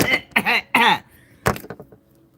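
A person clears their throat with several rough, voiced rasps in quick succession, close to the microphone, then trailing off into softer grunts.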